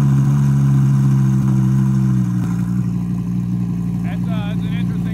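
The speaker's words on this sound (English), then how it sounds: "That's an interesting four cylinder." Civic-derived inline four-cylinder engine fitted with many mufflers, idling with a steady low drone that shifts slightly midway, and brief voices in the background.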